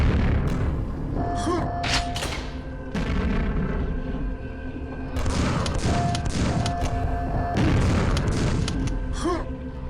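Repeated booming explosions and heavy thuds from combat in the video game Quake Remastered, with gunfire, close and loud, mixed with game effects and occasional voices.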